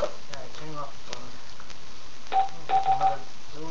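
A phone being switched off gives a few short, bright electronic beeps in quick succession near the end, over a faint background with some low voices.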